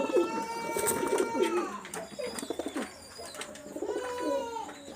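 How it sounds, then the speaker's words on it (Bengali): Teddy pigeon chicks and young pigeons cooing in a loft, soft repeated coos with some chirpy calls layered over one another, fairly close, with a bit of background talk in places. "এখানে যে কবুতরগুলো দেখাচ্ছি সবগুলাই দেখা যাচ্ছে যে মূলত সেল বেবি, সবই টেডি"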